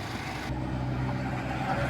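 An Isuzu MU-7 3.0 Primo Platinum diesel SUV from 2009 with automatic transmission idles steadily nearby, a low continuous engine rumble with no talk over it.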